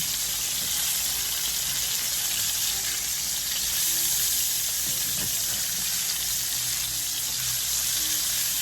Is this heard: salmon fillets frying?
yes